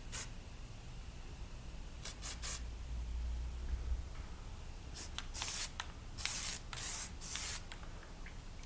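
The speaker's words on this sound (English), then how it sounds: "Sort of airbrushing with a spray can here." Short hissing bursts of a spray paint can used to paint a faux stone finish on a mask, several quick sprays in a row, close and fairly faint against a low background hum.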